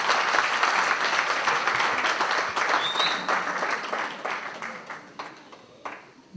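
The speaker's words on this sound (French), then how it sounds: "je demande d'applaudir très fort" Audience applause at a school gala evening at a lycée, sustained dense clapping from a crowd that fades slightly toward the end.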